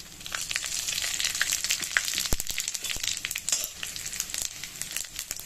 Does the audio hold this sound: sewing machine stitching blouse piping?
no